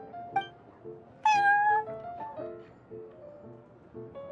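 A cat named Prince meows several times, short separate calls with one longer, louder, rising meow in the middle, close and clear against a quiet background.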